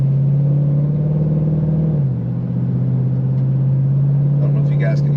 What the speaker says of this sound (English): how crisp the shifts are at part throttle